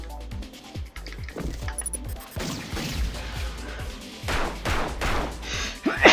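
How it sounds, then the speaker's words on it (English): Enemy shotgun in the game Rengoku firing again and again, a rapid string of sharp blasts and crashing impacts with scattered clatter, loud and close, no talk. "you just shoved your shotgun in my face and started pulling the trigger non-stop"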